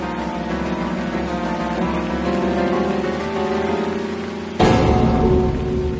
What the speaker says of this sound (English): It's been raining for 3 days, Bob.